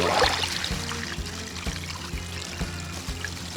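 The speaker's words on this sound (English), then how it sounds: "So we'll get this stirred in and pour the rest in the bag." Turkey brine of water and mixed seasoning pouring steadily into a bag, a continuous close splashing trickle that runs for several seconds.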